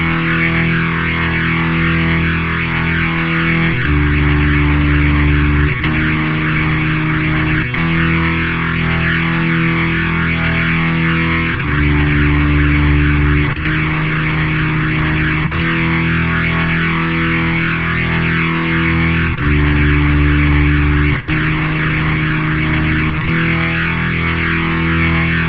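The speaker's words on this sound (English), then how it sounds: "No bass, no Morley Power fuzzball, only an electric organ." Electric organ playing the intro of a song, two recordings panned to opposite sides, a steady, thick, distorted-sounding sustained chord progression that shifts every couple of seconds, loud and continuous without any voices.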